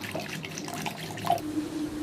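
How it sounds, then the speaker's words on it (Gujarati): Date and tamarind water being poured into a pot for grinding, for pani puri: a faint, soft trickle with light drips, with no voices. "ખજૂર અને આંબલીનું પાણી આપણે નાખી દઈશું એની અંદર પીસવા માટે"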